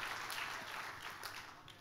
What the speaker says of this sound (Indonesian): tepuk tangan yang paling meriah buat Tuhan kita